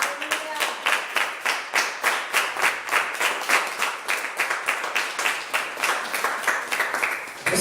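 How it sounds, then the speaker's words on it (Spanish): A church congregation claps in unison, a strong, regular rhythmic beat of many hands sustained at a steady tempo for several seconds, close and loud. "Denle un aplauso a Dios."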